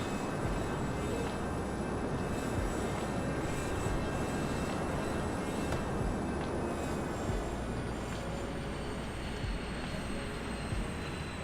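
Learjet 35A jet engines roaring steadily in thrust reverse after touchdown in a flight simulator, a dense continuous broadband rush with faint high engine whine, loud and close throughout without pauses.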